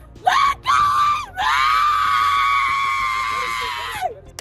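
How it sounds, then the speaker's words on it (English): A drunk woman driver being put into a police squad car screams at the top of her lungs, a loud piercing shriek in two short bursts, then one long sustained wail that tails off. "She screams at the top of her lungs"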